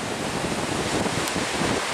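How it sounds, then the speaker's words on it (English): Waves wash continuously into a cove on the Lake Superior shore at Pictured Rocks, Michigan, under strong gusting wind that buffets the microphone, forming a steady, loud roar with no talk. "get some nice waves down there in that cove area"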